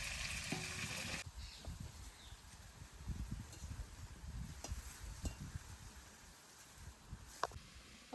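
Potatoes fry in a pan at home, a soft crackling sizzle with scattered pops and a few scraping stirs, fairly quiet and close, with a louder burst of sizzle at the very start.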